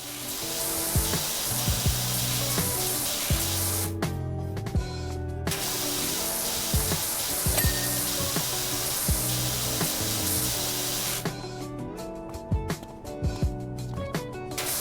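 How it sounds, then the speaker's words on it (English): Pressure washer spraying in the video game PowerWash Simulator, a loud, steady hissing jet that runs almost continuously, cutting out briefly twice, alongside faint game tones. "Left mouse button to use the washer here."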